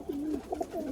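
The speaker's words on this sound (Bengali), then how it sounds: "এই দেখুন এই আর একটা মালবাহী, খুব সুন্দর পায়রা।" Malwai pigeons up close, a quick series of low throaty coos rolling one into the next, fairly quiet and alone.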